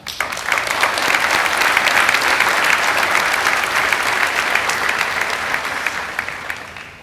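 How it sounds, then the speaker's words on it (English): Crowd applauding at a high school graduation ceremony, a loud dense wash of clapping that swells up fast, holds steady for several seconds and then tapers slightly toward the end. "Please join me in acknowledging and applauding everyone."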